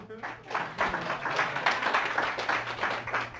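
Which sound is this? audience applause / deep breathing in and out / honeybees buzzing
audience applause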